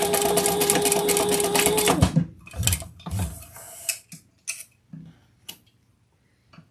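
A home sewing machine stitches fabric in a steady mechanical whir for about two seconds, then stops, followed by a series of separate clicks and knocks from handling the machine, close and fairly loud with no talking.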